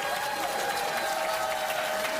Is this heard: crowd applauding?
yes